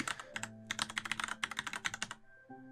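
Quick close-up typing on a computer keyboard, a rapid run of about two dozen crisp clicky keystrokes in uneven bursts, with a faint tonal background hum.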